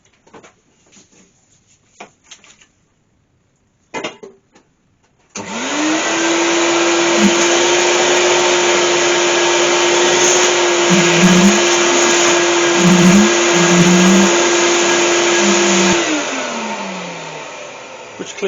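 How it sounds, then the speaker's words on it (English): A vacuum cleaner sucking dust out of a wood-turned silver birch hollow form, switching on with a rising whine into a loud steady roar, its pitch dipping briefly a few times as the nozzle moves, then winding down; light knocks precede it. "if I'm cleaning inside of there, I always use a vacuum cleaner"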